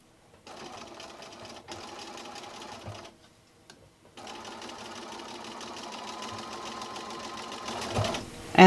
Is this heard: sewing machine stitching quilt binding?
yes